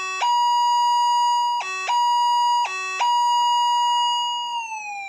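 Modded Minelab F1A4 metal detector sounding a steady electronic tone with bright harmonics, broken by three brief higher-pitched warbling bursts as the input is touched, then settling and gliding downward at the end.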